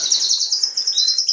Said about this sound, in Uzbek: Mana qushlarim sayrab yotibdi.